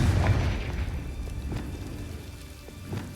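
A Confringo spell blast in Hogwarts Legacy lands as a deep booming explosion at the start, its rumble fading out with scattered debris-like crackles afterward.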